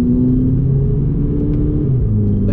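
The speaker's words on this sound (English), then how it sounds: "the sound's brilliant as well when you're in the lower gears and higher rev ranges" A VW Polo GTI engine pulling hard in a low gear at high revs on a road, a loud, steady, close rumble with a droning tone that shifts slightly, with no talking.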